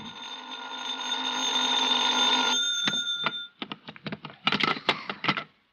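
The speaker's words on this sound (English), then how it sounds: "I was still in bed when the phone rang." A telephone bell rings in one long sustained burst, then breaks into a quick run of short rapid rings, loud and close in a quiet room.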